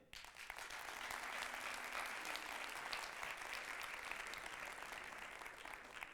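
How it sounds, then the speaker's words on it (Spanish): A theatre crowd applauds for Javier Bardem at a gala, with dense, steady clapping running loud and unbroken from start to finish. "aplausos para Javier Bardem"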